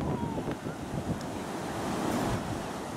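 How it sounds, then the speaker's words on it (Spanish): Ocean waves at Huntington Beach rolling and washing ashore in a steady broad roar, with wind buffeting the microphone and no clear talking. "Pero miren las olas."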